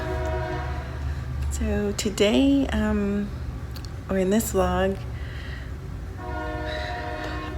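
A train passes nearby, its horn sounding in long harmonic blasts twice over steady rail rumble, with a person talking over the noise.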